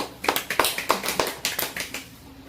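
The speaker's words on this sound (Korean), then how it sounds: "박수." A small group claps in a short burst of applause indoors during an English vocabulary class, about a dozen quick, fairly close hand claps in an uneven rhythm that fade toward the end.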